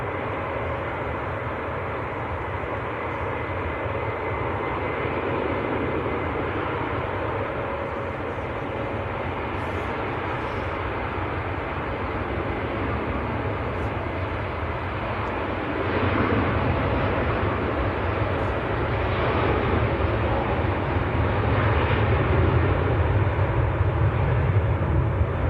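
An Aer Lingus airliner taking off from Manchester Airport bound for Barbados gives a low, sustained engine rumble that swells louder in the second half, no voices.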